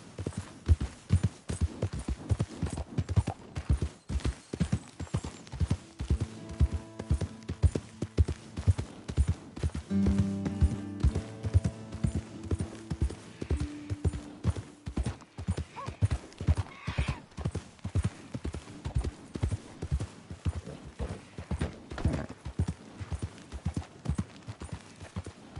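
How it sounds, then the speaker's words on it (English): A horse's hooves clip-clopping at a steady walking rhythm, with evenly spaced close knocks that keep going throughout, joined midway by a neigh or whinny and a faint low hum. "That's a fine horse you got there."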